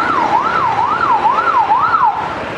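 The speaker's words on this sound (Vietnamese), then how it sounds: "nghe những tiếng hụ còi nó vô hồn" An ambulance siren wails in Saigon traffic near hospitals, a loud, close, rising-and-falling tone repeating about four cycles over a bed of road noise.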